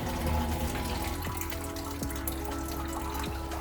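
Coolant drains from a loosened bottom radiator hose on a Toyota Hilux, a steady close liquid pour and splash with a few faint drips or clinks underneath.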